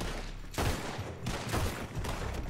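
Pistol fire in Red Dead Redemption 2, a quick series of loud, sharp bangs with reverberant tails in close succession over a couple of seconds.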